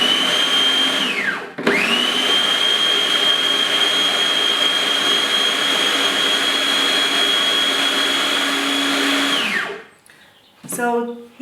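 Electric blender whirring steadily as it purees herbs and oil into a thick paste, loud and close. It spins down briefly near the start and stops near the end, followed by a short clatter.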